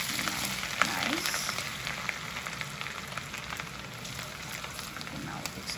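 Ginger and garlic paste sizzles softly in a hot pan, a faint continuous crackle with scattered small pops and no voices.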